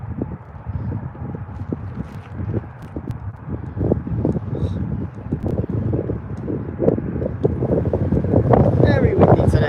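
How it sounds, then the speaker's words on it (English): Strong wind at Birmingham Airport buffets and rumbles against the microphone in gusty bursts, building louder toward the end, with a person talking underneath. "Very windy today, guys."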